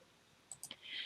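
A quick trio of mouse clicks, crisp and close, followed by a brief soft hiss.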